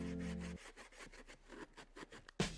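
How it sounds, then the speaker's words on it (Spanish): Quick rhythmic scrubbing strokes of a fiber scouring pad rasp against the cut edge of a plastic car bumper on a Mercedes-Benz E-Class S213 Estate, a brief hum stopping just before they begin. "con la ayuda de un estropajo de fibras afinaremos el recorte"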